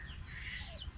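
Chickens clucking softly near turkeys outdoors by a waterfall, faint bird calls over a low rumbling background.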